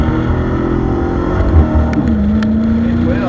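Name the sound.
Dodge Challenger Hellcat burnout in first gear, black key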